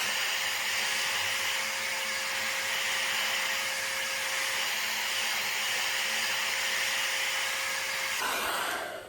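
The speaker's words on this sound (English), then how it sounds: "make it a little bit more smooth whenever you blow dry it" A hair dryer blows steadily and loudly at close range while hair is blow-dried with a brush, its airflow cutting off near the end.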